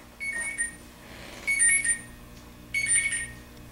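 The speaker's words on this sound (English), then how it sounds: "You heard that alarm here. That's telling me it's time to eat." A phone app alarm rings out in three short repeated bursts of bright electronic tones separated by brief pauses, reasonably close and alone with no talk.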